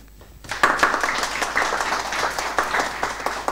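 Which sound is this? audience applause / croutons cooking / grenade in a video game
audience applause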